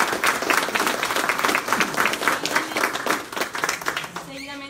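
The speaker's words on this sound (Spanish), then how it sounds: "Un aplauso." Audience applause at an inauguration ceremony for a legal professionals' service window at courts, a dense wash of many hands clapping steadily for several seconds before tapering off at the end.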